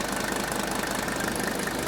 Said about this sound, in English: if the engine's healthy and you're running diesel purge, it should keep this smooth.